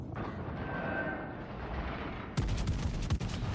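Ship cannons fire a broadside in a naval combat video game: a low rumbling backdrop gives way to a rapid cluster of sharp, loud booms in the final second.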